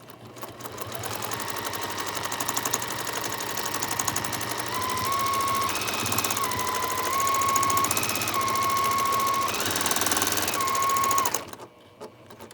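Sewing machine stitching a wishbone quilting pattern along a quilt border, a steady fast running hum with brief pitch shifts as the speed changes, continuous for about eleven seconds and then stopping abruptly.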